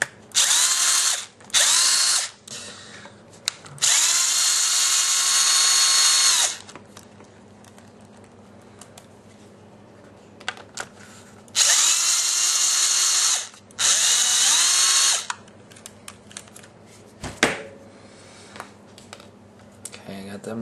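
A cordless power drill whines in short bursts while backing screws out of a Traxxas Stampede 4x4 slipper clutch, four close, loud runs separated by quiet clicks and small handling sounds, with occasional talk.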